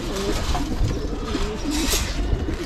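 Pigeons kept at home cooing in their loft, soft low repeated coos rising and falling over a steady rustling background, close by with no talking.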